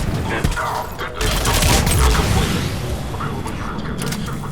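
Mortar fire and gunfire in Mass Effect 3 on Tuchanka mix into a loud, rumbling battle din of booms and rapid shots, with voices talking over the chaos.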